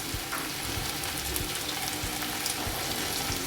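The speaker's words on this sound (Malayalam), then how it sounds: "നന്നായിട്ടൊന്ന് വഴറ്റിയെടുക്കാം." Curry leaves, crushed ginger-garlic and salt sautéing in a pan, a steady dense sizzle with a few faint stirring scrapes underneath, continuous and fairly close.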